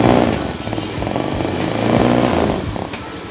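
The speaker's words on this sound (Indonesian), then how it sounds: "Nah, ini udah nyala guys, kita coba gas." A used Honda Beat FI scooter engine running near and loud, a steady buzzing idle that swells slightly as the throttle is blipped, with no talk over it.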